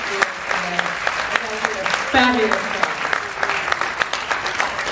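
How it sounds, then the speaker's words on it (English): An audience at a Wai Kru ceremony at a school in Thailand gives a round of applause, with many sharp claps spread steadily across the clip while someone speaks briefly over them. "So a round of applause for our"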